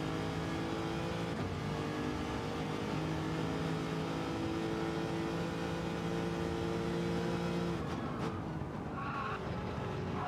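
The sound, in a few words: car engine revving in the video game Project Motor Racing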